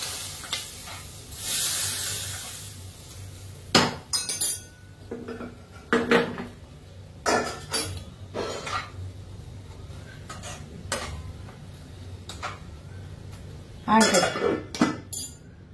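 Tempering spices fried in a pan during Mangalorean-style home cooking, with clinks of utensils against pots, stirring and a soft sizzle in bursts, under a low background hum.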